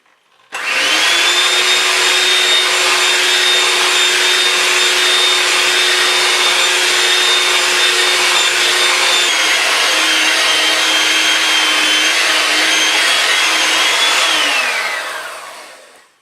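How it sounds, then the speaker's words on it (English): A food processor blends fine wholegrain crumbs with red pepper puree, a loud steady motor whir that holds for about fourteen seconds, dips slightly in pitch partway, then winds down to a stop, with no talking. "So I'm gonna now be adding the puree and keep on blending."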